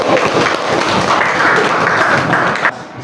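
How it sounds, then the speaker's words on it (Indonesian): A classroom of students clapping together, a loud, dense burst of applause that continues evenly before breaking off abruptly at the end. "Tepuk tangan buat kita."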